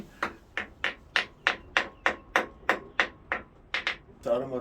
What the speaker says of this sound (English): All else fails, get out the hammer.